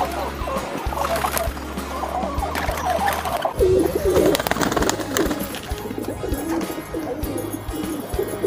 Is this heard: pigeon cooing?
yes